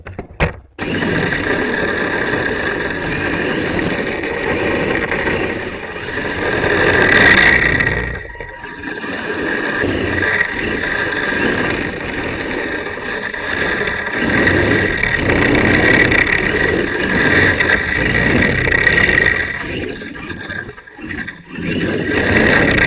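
A Sprint 2 RC drift car's electric motor whines steadily and loudly up close, rising and dipping as it drives and slides, with short pauses between runs.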